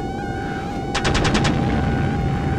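Inside a Eurofighter jet in a flight video game, a quick rattling burst of about six rounds strikes over the steady engine drone, brief and close.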